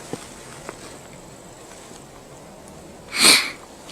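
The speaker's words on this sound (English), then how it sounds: "I'm sniffling too much here" A person outdoors in a valley gives one sharp, close sniffle after a quiet stretch with a couple of faint clicks.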